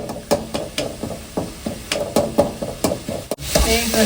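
Tomatoes sautéing in a pan, with repeated sharp scraping and stirring knocks falling in a steady rhythm over a soft sizzle, close and fairly loud.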